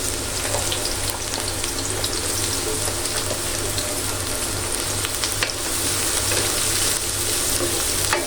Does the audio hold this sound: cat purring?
no